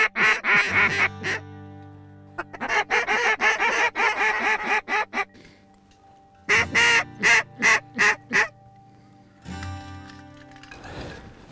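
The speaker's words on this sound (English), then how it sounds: "the ducks are really trying to get into that worked field" Wild ducks near a worked field give loud bursts of quacking calls in rapid clusters, with pauses between groups and a noisy rush at the end.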